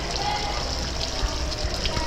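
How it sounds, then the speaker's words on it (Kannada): Clear water flows steadily near stone steps in Jodhpur, a constant close rushing wash with no pauses over a short stretch. "ಈ ಥರ ನೀರು ಬರ್ತಾನೆ ಇರುತ್ತೆ ತುಂಬ ಕಡೆ"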